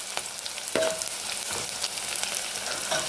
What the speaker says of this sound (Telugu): ఆనియన్స్ బ్రౌన్ కలర్ వచ్చే వరకు వేపుకోవాలి.